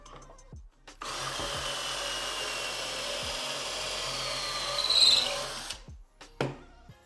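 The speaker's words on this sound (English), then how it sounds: "I'm gonna take my drill, I'm gonna put in my Craig bit, and I'm just gonna drill through the hole." Power drill fitted with a Kreg pocket-hole bit boring into wood, a steady whirring run of about five seconds that rises in strain near the end, with quiet clicks and handling before and after.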